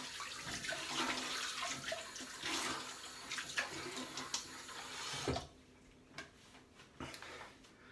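Tap water runs into a sink for washing up after a straight razor shave, a soft steady splashing that cuts off partway through, leaving faint clicks and drips.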